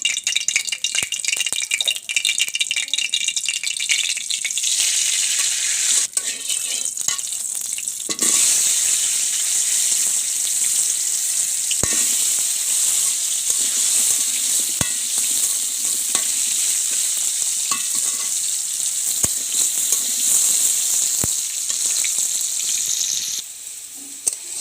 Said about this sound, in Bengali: ভালো করে গরম তেলত ভাজে নেবো।